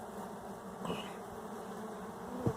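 A honeybee swarm hums steadily and densely at close range, a continuous insect drone with a couple of brief louder swells and no voices.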